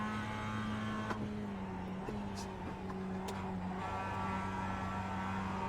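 Mazda MX5 race car engine on a practice lap in iRacing, a steady droning engine note with gear changes shifting the pitch, close and continuous throughout.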